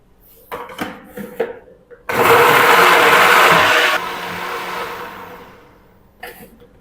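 A blender grinds a masala paste of spices with a little water for an egg tikka curry, a loud steady whir that swells abruptly, holds for about two seconds, then winds down, with brief clatter of the lid before and after.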